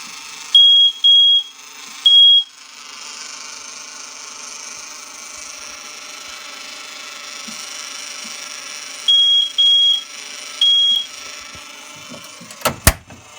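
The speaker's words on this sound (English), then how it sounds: "Sounds like a smoke alarm." A smoke alarm sounds in sharp, piercing beep bursts, a group of three near the start and three more later, over a quiet hum; no one speaks.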